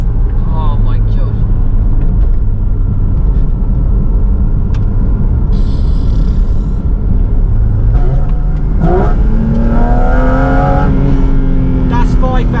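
Silver sports car engine that revs to 9,000 rpm, rumbling and revving up loudly from inside the car, with a rising pitch sweep toward the end and someone talking over it.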